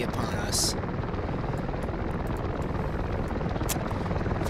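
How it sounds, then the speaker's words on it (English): Helicopters in a war video game, a steady dense rotor drone sitting continuously at a constant level throughout, with a brief bright high-pitched burst near the start and another later, no voices. "Those helicopters are going to be a major issue for us, however."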